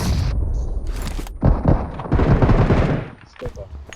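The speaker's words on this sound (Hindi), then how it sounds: "तो देखो तुम्हारा भाई कैसे जंप शॉट मारता है" Bursts of gunfire from a jump shot in the battle royale game BGMI during an intense squad match, a few loud cracks and rattles in quick succession amid game noise.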